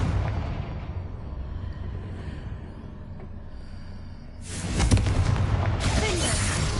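Confringo spell explosion in Hogwarts Legacy: a low rumbling bed of game ambience, then a sudden loud broadband blast that sustains as a crackling roar for a couple of seconds.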